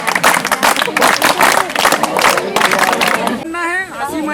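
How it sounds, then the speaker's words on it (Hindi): Students at a high school forest nature-experience programme clap their hands in a dense burst, mixed with crowd babble and talk, the clapping fading as a voice speaks near the end. "ताली ताली कैसे बजाते हैं"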